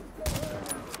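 Gunshots in the video game The Division, a quick pair of sharp shots fired close together, fairly quiet, with game background noise around them.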